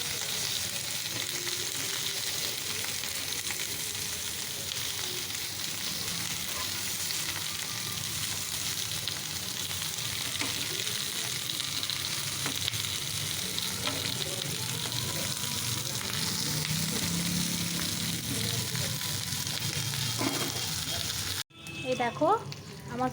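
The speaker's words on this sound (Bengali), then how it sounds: "দেখো সবগুলো বেঁধে আমি অল্প একটু তেলের মধ্যে ছেঁকে নিচ্ছি।" Paturi parcels, tied bundles, shallow-frying in a little oil produce a steady, loud broadband sizzle that holds unbroken for about twenty seconds, then cuts off abruptly as a brief clatter follows.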